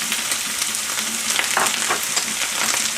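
Minced meat fries in a pan with a dense, continuous sizzle, steady and close with faint crackles and no voices over it.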